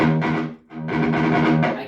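Distorted electric guitar through a swapped-in amp speaker at low apartment volume, playing sustained chords in two bursts with a brief gap between, loud and saturated.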